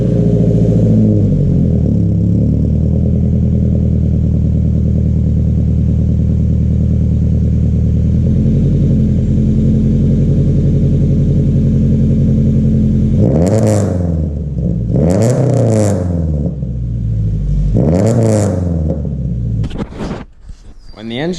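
A 2015 Subaru Legacy with a cold engine idles loudly with a steady, rough drone, then is revved in three or four sharp bursts that rise and fall, giving a raspy exhaust note.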